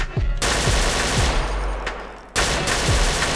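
Sustained automatic gunfire in Grand Theft Auto IV, a loud continuous rattle that briefly drops off and then resumes, with little else heard over it.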